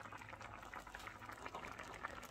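Brussels sprouts cook in a covered pot with a creamy liquid, making a soft, continuous bubbling simmer that stays faint and close, with no voices.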